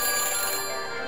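A video game phone ringing after a number is dialed, a bright electronic ringtone with steady buzzing tones, heard alone and close for about a second.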